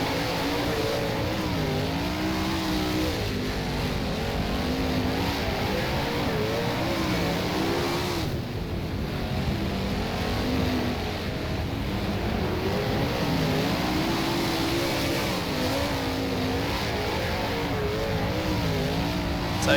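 A 410 sprint car races in the rFactor sim at Premier Speedway Warrnambool, its engine snarling loud and continuous with rising and falling revs through the turns, other cars' engines mixing in, no talk.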